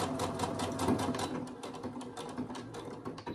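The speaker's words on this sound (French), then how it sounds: "je vais terminer en faisant point avant, point arrière" A sewing machine runs a short forward stitch and then a reverse stitch to lock the end of a seam on a fabric sewing organizer, a steady close mechanical whirr with brief changes in pace.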